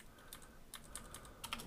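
Close, quiet typing on a computer keyboard while installing BSD in a virtual machine, scattered key clicks arriving in small bursts separated by brief gaps, no voices.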